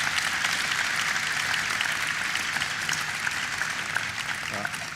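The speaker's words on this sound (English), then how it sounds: "So please give him a big round of applause" Audience applause for Ken Salazar, US Secretary of the Interior, at an energy security event at Andrews Air Force Base: dense, steady clapping from a large crowd, loud and sustained throughout.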